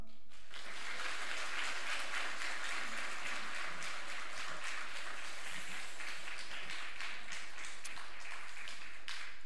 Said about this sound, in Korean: 여러분 나오실 때 힘차게 또 격려와 응원의 박수를 해주시면